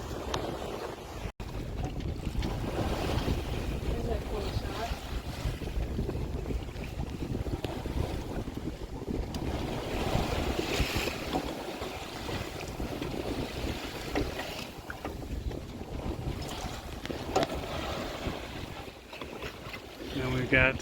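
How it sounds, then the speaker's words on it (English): Sailboat carrying a genoa, staysail, main and mizzen on a broad reach, heard as steady rushing wind buffeting the microphone over hull and water wash, continuous for about twenty seconds with faint voices in the background. "all four sails working together on a beam to broad reach"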